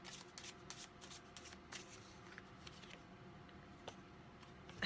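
Soft papery riffling of oracle cards being shuffled, a steady run of quick flutters and light taps, close by, with no voices.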